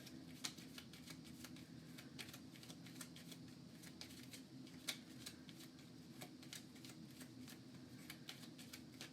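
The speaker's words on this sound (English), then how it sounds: "The hero deck gets shuffled." A Marvel United hero card deck is shuffled during a solo tabletop game, a steady run of soft, close riffling and flicking taps continuing without a break and with no talk.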